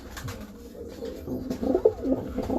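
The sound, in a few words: pigeon cooing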